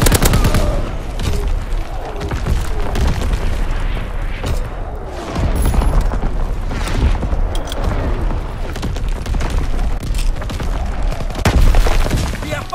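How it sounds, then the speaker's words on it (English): An artillery battery firing in Call of Duty WW2 on the Aachen map: dense, loud battle noise with repeated booms and rapid gunfire throughout, with occasional voices in the mix. "Firing primary battery."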